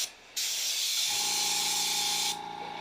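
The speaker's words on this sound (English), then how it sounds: "House Color KC10 wax grease remover is my favorite for this. I usually don't spray it that hard" An aerosol can of House Color KC10 wax and grease remover sprays hard in a single long, loud, steady hiss of about two seconds, close by, ending abruptly.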